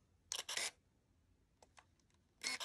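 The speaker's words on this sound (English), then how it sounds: "if I press the shutter button" Konica Hexar film camera shutter firing at close range, with a crisp mechanical click-whir near the start, a few soft ticks in the middle, and another burst at the end, with no talking.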